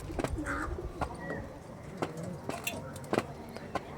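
Pure Harukudu pigeons, young birds, coo softly and faintly, with scattered sharp clicks and rustles around them in a quiet setting.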